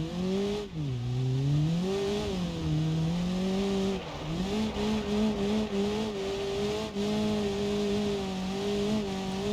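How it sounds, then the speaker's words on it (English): A sports car in a driving game spins its tires on loose dirt, the engine droning continuously with pitch rising and dipping as the wheels slip, loud and close with no talk. "it doesn't seem to have the best grip on this dirt, so we are just kind of spinning our tires quite a bit"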